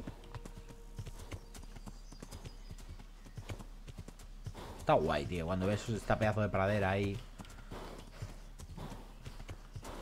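Horse hooves clip-clop steadily in the Kingdom Come: Deliverance video game, a continuous trotting rhythm under someone talking, followed by a brief horse whinny or snort midway.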